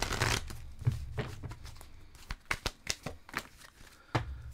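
A tarot card is drawn from the deck with a string of soft, crisp papery flicks and slides, several quick shuffling snaps close up, with no talking.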